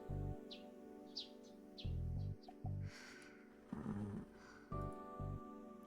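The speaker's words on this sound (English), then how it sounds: "I met the morning with the sound of chirping sparrows and the quiet snoring of a girl" Sparrows chirp on a Chaos;Child morning scene, short bright tweets scattered across the clip, heard alongside a girl's slow, quiet snoring breaths that rise and fall in a steady rhythm.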